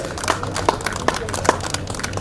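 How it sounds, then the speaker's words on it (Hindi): At an NSPCL Independence Day celebration in 2021, a handful of sharp, distinct claps land in a steady rhythm about every 0.4 seconds, close and fairly loud over a faint hum. "जोरदार तालियों से संजय दास जी का अभिनंदन करें"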